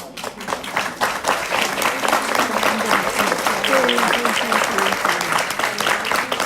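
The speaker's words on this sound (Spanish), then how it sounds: "quiero saludar a otro ilustre miembro de Defendamos la Paz que acaba de entrar, el caricaturista Blado, para quien pido un aplauso" An audience at a panel discussion applauds cartoonist Blado as he arrives, a loud, steady round of clapping from a seated crowd with some voices mixed in.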